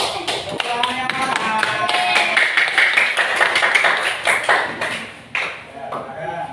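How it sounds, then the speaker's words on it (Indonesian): Classroom clapping for a student during a lesson, a run of quick, fairly loud hand claps with voices and chatter over them, fading briefly near the end. "tepuk tangan buat Mas Fadil"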